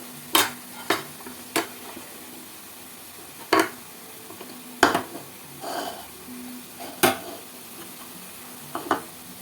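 Ginger-garlic paste being stirred and fried in a pan for egg pickle: scattered scraping spoon strokes and clinks over a steady low sizzle, close and fairly loud, with no talking.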